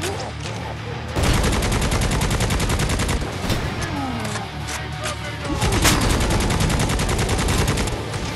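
Rapid, continuous bursts of machine gun fire in the video game Necromunda: Hired Gun, loud and dense, with brief pauses between volleys and a few booming shots.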